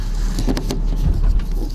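A 2018 Porsche Macan Sport Edition with a four-cylinder turbo engine drives along with a steady low engine hum and road rumble, plus a few brief bumps and clicks.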